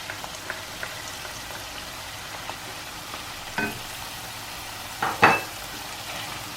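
Tomatoes fry in a karahi for ginger chicken while being stirred, with a continuous crackling sizzle and a few louder scraping clatters near the end.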